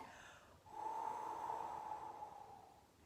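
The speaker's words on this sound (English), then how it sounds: "breathing out through your mouth as if you're blowing out a candle" A single sustained breath blown out through the mouth, as if blowing out a candle, during a Pilates breathing exercise; one steady, close airy exhale lasting a couple of seconds with no talking.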